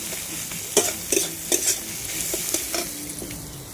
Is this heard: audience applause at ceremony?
no